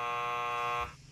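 A game timer buzzer from a movie-guessing party game gives a single loud, steady, harmonic buzz lasting just under a second before cutting off, with no voices.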